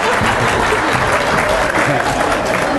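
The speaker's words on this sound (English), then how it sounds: "I want to give him a round of applause," An audience bursts into dense, loud, continuous clapping at a 1996 hypnotist show, a full room of applause filling the whole moment.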